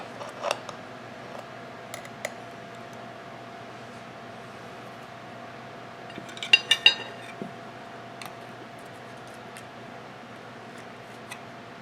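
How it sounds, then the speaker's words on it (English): Sparse clinks and scrapes of a utensil against a baking dish as lasagna is cut and plated, with a brief cluster of sharper metallic taps midway, quiet and close with no talking. "So we are going to go ahead and cut it and plate it."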